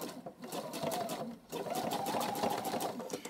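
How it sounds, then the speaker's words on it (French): A sewing machine stitches a zigzag on drawstring cord bags, running fast and close in two rapid bursts with a short pause between, the stitching rhythm clearly audible. "vous recommencez votre zigzag. Hein. Allez, vous voyez comme ça va vite."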